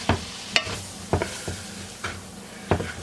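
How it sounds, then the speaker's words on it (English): Meat, beans and onions stirred in a sizzling skillet, a steady frying hiss broken by about six scraping knocks of the spoon against the pan, close up with no talking. "we're going to stir this around and get the meat and the beans and the onions and everything good and coated"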